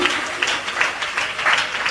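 A church congregation claps together during a pastor's sermon, a dense, steady patter of many hands that swells and dips slightly over two seconds.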